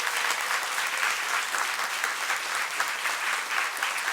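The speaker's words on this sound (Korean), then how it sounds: "우리 하나님께 영광의 박수를 올려드리겠습니다" A church congregation applauds during a Sunday worship service, a dense, steady wash of many hands clapping at full volume for the whole stretch, with no voices rising above it.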